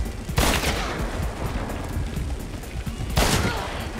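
Gunfire in the video game Hunt: Showdown, with two loud sharp shots about three seconds apart over a busy background of noise.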